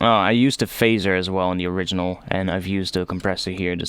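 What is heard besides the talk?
No everyday noise stands out behind the speech.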